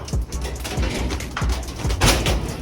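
Breeder pigeons in a rooftop loft coo repeatedly, low throaty calls rising and falling over a busy, close background of wing rustles and shuffling.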